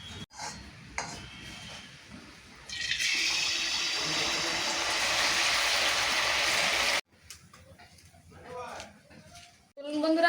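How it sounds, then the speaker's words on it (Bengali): Pua pitha rice cakes deep-fry in hot oil, a bright sizzling hiss that swells for several seconds and then stops abruptly, with quieter clatter and low talk before and after. "একইভাবে বাকি সব পিঠেগুলো ভেজে নেবো"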